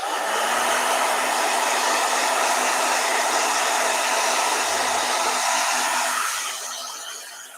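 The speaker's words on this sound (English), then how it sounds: "Blow dryer." A hair blow dryer runs steadily and loudly at close range with a constant airy whoosh and faint motor hum, then drops in intensity near the end as it is lowered or switched to a softer setting.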